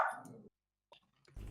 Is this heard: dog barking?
yes